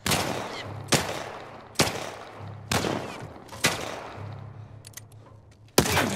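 Gunfire in The Last of Us multiplayer: five or six sharp, loud shots spaced roughly a second apart, each a hard crack with a brief tail, over a low hum with faint scattered clicks between.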